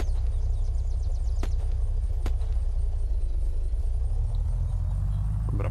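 A car engine in the Unturned video game rumbles steadily while driving, a low continuous drone with a couple of brief clicks and a slight rise in pitch near the end.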